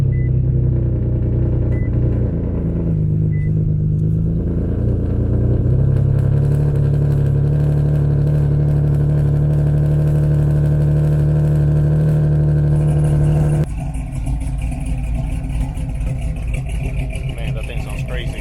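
Loud single-turbo Nissan 370Z engine at a Cars and Coffee meet, a steady heavy idle rumble with a strong low drone that drops off abruptly near the end, with some nearby background chatter.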